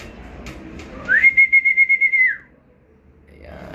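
A pigeon fancier's whistle calling racing pigeons home at a race arrival: one loud, sustained, warbling whistle close by lasting just over a second, with faint background noise before and after.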